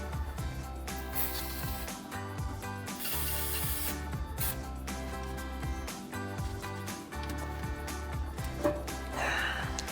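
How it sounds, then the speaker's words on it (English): Aerosol lubricant sprayed onto the rubber muffler isolators under a RAM 1500 pickup during a muffler delete, giving steady close hissing bursts with faint clanks of tools and metal in a garage. "we're going to spray down our last 2 rubber isolators"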